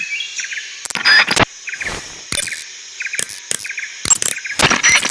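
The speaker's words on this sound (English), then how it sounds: "That area is home to the Sunda whistling thrush." Repeated whistling bird calls from a Sunda whistling thrush in the Javan jungle of the video game Metal Gear Solid 3, bursts of chirps and whistles recurring every second or so over a steady insect-like background hum.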